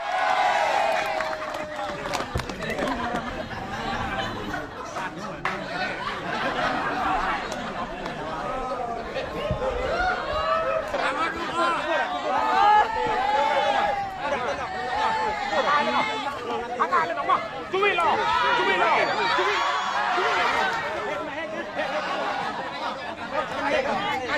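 Villagers crowd around a sand game in which contestants try to get sand onto each other's backs, their steady chatter, laughter and cheering filling the scene loudly throughout.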